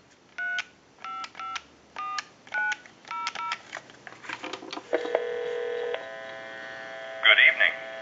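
A string of short touch-tone beeps dialing a number on a clear Bell South Trimline telephone, evenly spaced, then a steady line tone and a brief ring burst.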